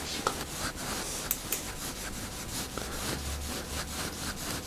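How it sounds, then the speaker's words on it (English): A chemical-soaked rag is rubbed over the frame of an old Trek mountain bike, giving a steady, close scrubbing swish in repeated strokes against a hissy background. "I just put a little bit on the rag there and just kind of rub it away."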